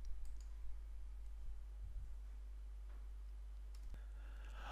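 A single computer mouse click on an installer's Next button during a standard Joomla 3 web installation, a faint brief tick over a low steady hum with quiet room tone.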